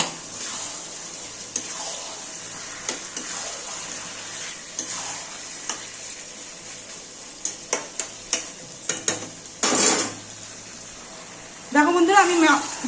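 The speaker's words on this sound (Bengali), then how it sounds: "চিকেনগুলো দিলে একটু নেড়ে আমি ঢেকে দেবো।" Chicken being added to fried spice masala and stirred in a pan, giving a soft sizzle with scattered spoon scrapes and clinks that cluster near the end, while a voice speaks over part of it.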